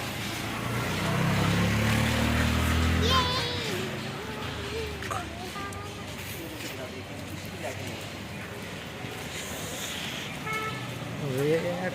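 A busy street in India, heard from a vehicle, with steady traffic rumble, engines passing and a few short car horn toots, while people talk over most of it.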